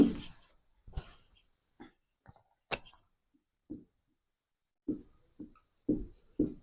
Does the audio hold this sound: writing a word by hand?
yes